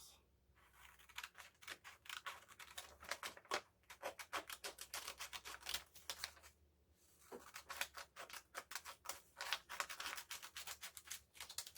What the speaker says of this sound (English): and then cut out our squares.